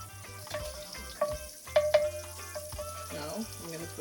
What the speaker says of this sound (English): Searing, I'm going to sear my thing. I need the pot to be a little hotter.